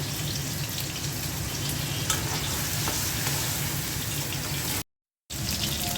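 Eggplant and a little water added to a curry frying in a pan, a loud continuous sizzle and bubbling hiss that runs steadily, broken once by a brief dropout near the end.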